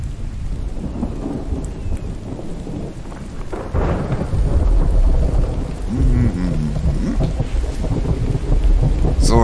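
Steady rain pours down with a heavy roll of thunder in the survival video game The Infected, loud and close, filling the whole stretch with no talk over it.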